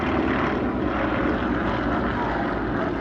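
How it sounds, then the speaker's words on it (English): A Yak-18T, a fully aerobatic four-seat propeller touring aircraft, drones steadily overhead at an airshow in Meaux, its engine and propeller roar loud and continuous with no pauses. "the Yak-18T is an entirely different aircraft type"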